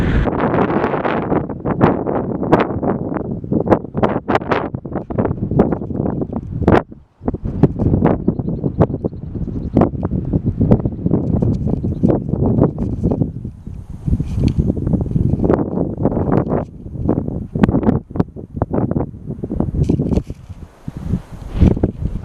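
Strong wind buffets the microphone continuously, with gusty roaring and rustling throughout and no speech, in Yosemite near El Capitan.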